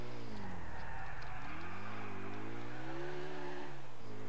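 A car in the video game GTA IV drives along with a steady engine drone that rises and falls in pitch as it accelerates and eases off, close and continuous, with faint tire noise underneath.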